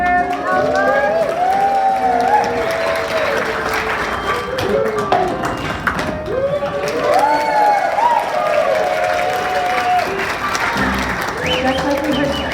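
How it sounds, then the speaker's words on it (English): Audience applause at a puppet slam, a steady wash of clapping from a crowd that runs the whole length while voices and puppet chatter carry over it. "We might need a little applause here."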